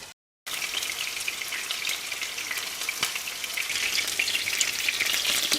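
Very thin chicken cutlets cook in a pan over medium-high heat under a lid, giving a soft, even sizzle with light crackle and pops throughout, slowly growing a little louder, after a brief moment of silence at the start.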